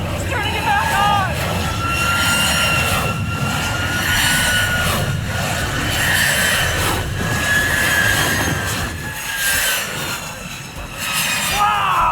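A jet engine on a diesel build is restarted and runs at a loud, steady roar with a shrill whine on top, continuous throughout with people talking over it.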